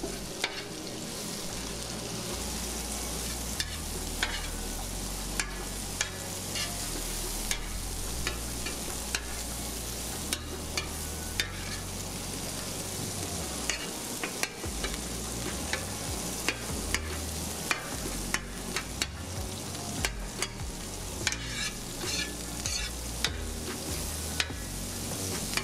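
Chicken and onion sizzle steadily on a flat top griddle while a spatula stirs and scrapes through them, with frequent close clicks of metal over the constant frying hiss.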